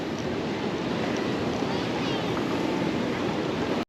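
Water rushing and churning past the hull of a Carnival Vista cruise ship, a steady broadband wash with wind noise that runs unbroken and fairly loud throughout.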